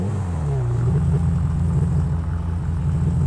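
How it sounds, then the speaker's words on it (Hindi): A car engine in GTA V rumbles loud and close, a deep steady drone whose pitch climbs briefly near the start before settling into an even, sustained roar. "आवाज़ भी इतना शानदार दिया है ना इस गाड़ी में कि क्या बताऊँ मैं आवाज़ के लिए"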